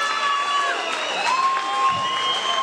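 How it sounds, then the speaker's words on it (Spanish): A live comedy audience in Guadalajara cheers and applauds in a steady, lively roar, with whoops and shouts rising over clapping throughout. "¡Aplausos!"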